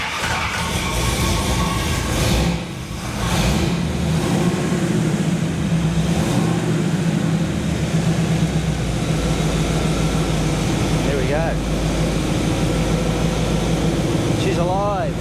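A Fury car engine runs at a loud, steady idle nearby after starting, a continuous low rumble that fills the recording, with a voice talking briefly over it.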